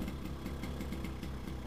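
A small Solex moped engine, a Solex 1400, idles just after being started, giving a steady, fast, even putter with a slight rattle and no voices.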